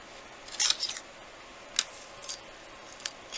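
Polymer clay being cut with a blade, a few short crisp snips and clicks spaced apart, fairly close and quiet, with no talking.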